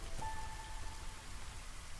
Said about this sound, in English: We're now in the drizzle